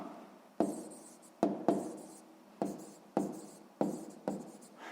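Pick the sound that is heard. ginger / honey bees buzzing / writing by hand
writing by hand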